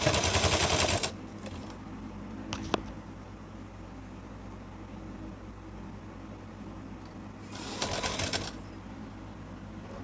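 A sewing machine stitches blouse fabric in two fast, rattling bursts of about a second each, close and loud, with quiet handling noise and a sharp click between them.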